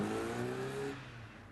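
A red Ford Escort drives past with an engine revving and accelerating, fairly faint, its tone sliding downward as it moves away and fades.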